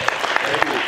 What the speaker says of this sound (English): Everyone, round of applause for these two guys